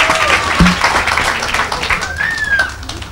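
A church congregation applauds and cheers at a healing service, a dense, steady wash of clapping and crowd voices throughout, with a few whistling cries rising above it.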